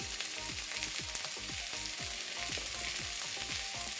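Cauliflower sizzles loudly in a hot pan with salt while a spoon scrapes and stirs it in a steady rhythm, the frying hiss constant and close throughout.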